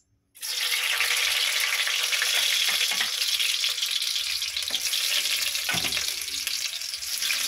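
An egg sizzles in a hot pan as a sunny-side-up fry begins, with a loud steady crackle that starts abruptly and holds throughout, and a few faint scrapes and clinks of a utensil.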